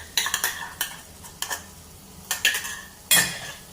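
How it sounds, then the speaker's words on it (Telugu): A spoon scrapes and stirs blended tomato into a frying fish masala in a village-style pan, giving several short, close scraping strokes in irregular bursts with a faint sizzle underneath and no voices. "టమాటాని మిక్సీ వేసుకొని పట్టుకున్నాం కదా, అది కూడా ఇందులో వేసేసుకొని మిక్స్ చేసుకోవాలి"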